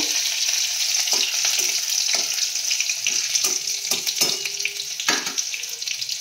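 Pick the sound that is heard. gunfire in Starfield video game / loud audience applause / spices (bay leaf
spices (bay leaf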